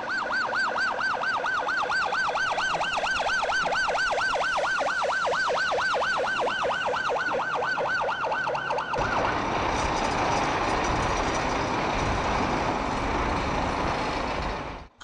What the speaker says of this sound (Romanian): Șirul de camioane a traversat întreg orașul Constanța.